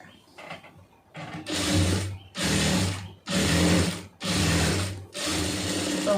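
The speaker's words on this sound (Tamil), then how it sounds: "இப்படியே அதில் வந்து தையல் போட்டுருங்க" A sewing machine stitches a round neckline in five steady bursts of rapid mechanical whirring, each separated by a brief pause. The stitching is close and clear, with no talk.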